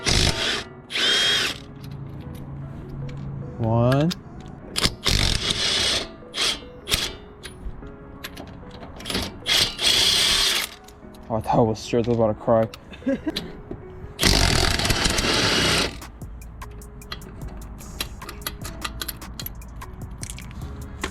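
Repeated bursts of a power tool whirring and rattling as lug nuts are spun loose from a Nissan 240SX S13 wheel, with short pauses between, and a person talking in between.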